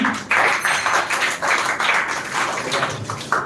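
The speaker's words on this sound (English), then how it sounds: "So once again clap for him" An audience claps for a student speaker after a speech on the dowry system at a spoken English semi-final contest. The sustained, dense applause fills the room and stays steady throughout, with no voices over it.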